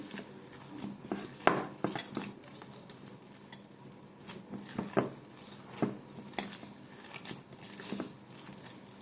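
Fish pieces being mixed with egg in a bowl for fish fry, heard as irregular metallic clinks, taps and soft scraping of a utensil against the bowl, fairly quiet with no voices.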